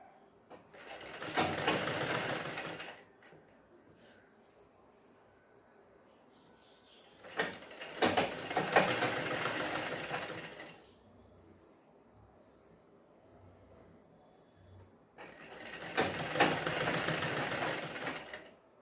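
A sewing machine stitches a blouse sleeve in three separate bursts of steady running, each about three seconds long, with quiet pauses between them and no talking.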